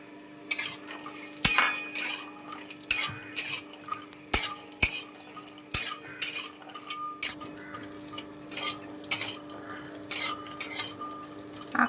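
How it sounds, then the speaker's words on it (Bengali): Walnuts being fried in ghee, a spoon scraping and clinking against the pan in a steady series of strokes, close and moderately loud, no talk. "এবারে যে ঘিটা রয়েছে এর মধ্যেই আমরা আখরোটগুলো ভেজে নেব"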